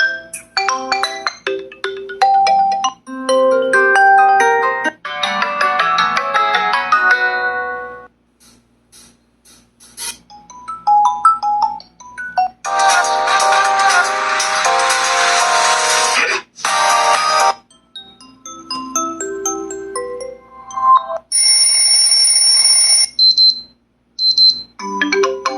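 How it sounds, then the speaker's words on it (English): Default ringtones play through the speaker of a Xiaomi 11T Pro phone, a string of bright melodic tones and chimes, loud and close, separated by short silent gaps. "the speaker quality is really nice for sure, even while playing the default ringtones we got on the device"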